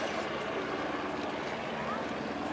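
Continuous loud roar of a Douglas A-1 Skyraider's 2700 hp 18-cylinder twin-row radial engine at an air show, steady and dense with wind noise, voices faintly underneath.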